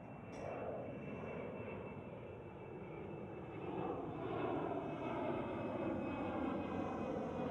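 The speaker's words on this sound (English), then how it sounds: "And there is the British Airways City Flyer departure." A British Airways CityFlyer jet departs Schiphol airport in Amsterdam, its engines making a steady, loud roar that swells slightly as the plane climbs, with no voices.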